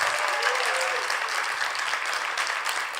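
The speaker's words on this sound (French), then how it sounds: "Bonne main d'applaudissements." A crowd gives a hearty round of applause at a launch event for a château's performance season, a loud, even burst of many hands clapping that holds steady throughout.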